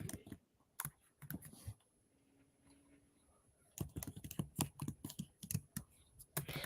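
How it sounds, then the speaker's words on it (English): Fingers type on a computer keyboard in quick, close clicking bursts, with a quiet pause partway through before the rapid key taps resume and continue steadily. "when I start typing in people that I think follow, like their name doesn't come up."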